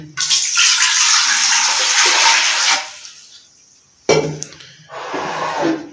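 About 1.5 kg of water is poured into a pressure cooker in a kitchen, giving a loud, steady splashing gush. It stops, then after a short gap a clunk is followed by a second, briefer pour.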